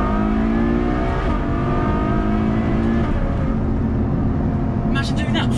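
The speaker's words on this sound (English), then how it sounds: "The delectable, sonorous, mildly ostentatious exhaust tone." Ferrari GTC4 Lusso V12 exhaust revving loud and continuous, a rich, sustained engine roar rising in pitch, heard close throughout, with faint talk near the end.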